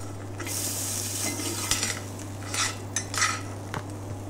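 A rack of lamb with rosemary sizzles in a hot pan as it is turned over, a constant close frying hiss broken by a few metallic clinks of utensils against the pan.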